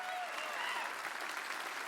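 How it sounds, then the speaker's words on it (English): Audience applause in a large convention main theater at PAX East 2020, a dense, steady burst of clapping from a big crowd filling the whole short moment. "let's give them another round of applause"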